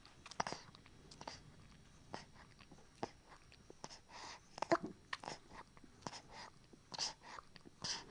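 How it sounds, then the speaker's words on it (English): A nursing baby sucks and swallows milk at the breast, making soft, close, quiet wet clicks and gulps in an irregular rhythm with no talk over them. "you can actually hear him sucking. Can you hear the actual swallowing as well of the milk?"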